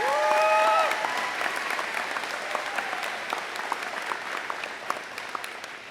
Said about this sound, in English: One more round of applause for all 4 of our young athletes